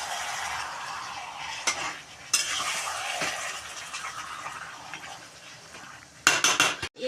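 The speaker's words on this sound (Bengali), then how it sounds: "এখন এখানে মাংস দিয়ে নেড়ে চেড়ে নেব।" Chicken pieces cooked in the style of goat curry are stirred in a frying pan, with a soft sizzle underneath and scraping, clinking spoon strokes against the pan, ending in a quick burst of sharp metallic knocks.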